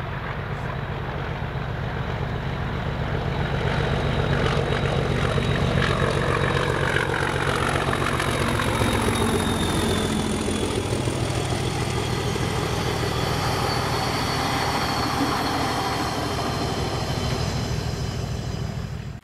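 A Class 37 diesel locomotive, 37422, and Class 66 locomotive 66433 run together as a light-engine move at Cartland in Scotland, their engines throbbing steadily and close throughout, with a pitch sweep as they pass; no talking.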